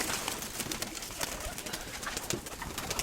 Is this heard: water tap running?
no